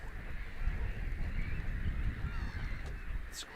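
Geese and other waterfowl honk and call near an island harbour in northern Denmark, heard from a boat: a steady chorus of honking over low wind and water rumble, with one sharper, closer call near the end.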